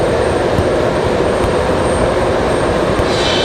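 A passenger jet, an Air Canada airliner on approach to Raleigh-Durham International Airport, produces a loud, steady, broadband engine roar that stays constant throughout, with no voices over it.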